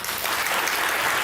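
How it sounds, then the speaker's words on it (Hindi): Studio audience applause on a comedy chat show, a steady dense burst of clapping filling the whole moment at even loudness with no voices over it. "वो तालियां बजाएं।"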